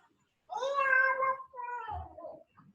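A cat meows loudly and close by in a long drawn-out call, then gives a second, softer meow, with a brief low thump between them.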